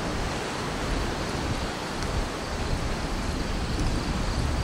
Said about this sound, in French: C'est des petites vagues qui tapent.